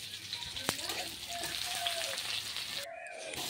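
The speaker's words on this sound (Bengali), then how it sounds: "মাছ ভাজা করছি" Fish frying in a pan gives a steady, soft sizzle with faint crackles and a few small clicks running throughout, moderately close, with no talking over it.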